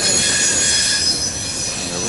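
A freight train rolls past on rails in Tyrone, Pennsylvania, its wheels squealing with a steady high metallic screech over a constant rumble, loud and close.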